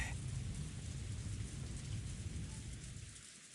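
A soft, steady hiss of rain falls without a break in the Umineko game, faint and even throughout, with a low rumble underneath.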